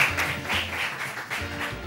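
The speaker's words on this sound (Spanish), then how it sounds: "Fuerte el aplauso para él" Studio audience applause for a guest on a Spanish TV show, a short burst of dense clapping in pulsing waves with no talk over it.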